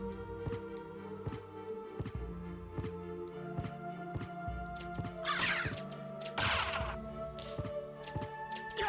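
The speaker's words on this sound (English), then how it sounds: "birds in video games are the bane of Jitch" Crows cawing in Castlevania: Symphony of the Night, repeated loud harsh caws over a looping game music track with regular tapping beats, the calls bunching up near the middle of the stretch.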